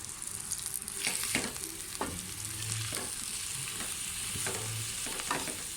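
Okra frying in half a cup of oil, giving a steady close hiss, with a ladle scraping and stirring the pan several times at intervals.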